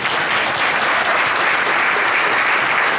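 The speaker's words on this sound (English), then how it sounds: "not only should we be giving them a huge round of applause" Loud, dense audience applause at an anniversary celebration honoring pioneers, continuous and even clapping from a large crowd with no break.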